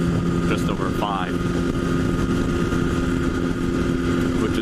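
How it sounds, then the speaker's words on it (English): Motorcycle exhaust running at just over 5,000 RPM, a steady, loud engine drone mixed with heavy wind rush, continuous throughout, as heard from the rider's seat. "it's also the exhaust. Like right now it sounds like the RPMs are like super high, and they're not."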